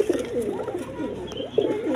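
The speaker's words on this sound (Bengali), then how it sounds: "এখানে এক পেয়ার শার্টিং কবুতর আছে, দেখেন।" A pair of pigeons coo close by in repeated soft, throaty rolling calls, several coos in a row over a faint background of other birds.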